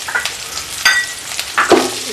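Ginger, garlic, mint and coriander sauté in a pan for coconut milk biryani, a soft sizzle broken by a few sharp scraping stirs of a spoon.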